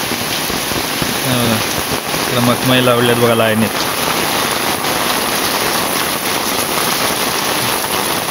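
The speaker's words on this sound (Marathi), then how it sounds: "पाऊस नुसता पाऊस." Heavy rain pours down steadily and loudly in a village house yard in the Konkan, a dense continuous hiss close by, with someone talking briefly over it near the start.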